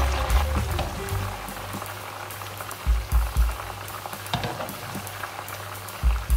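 Cod pieces frying in hot oil in a kitchen pan, giving a steady close bubbling sizzle with a few louder pops and crackles and no talk.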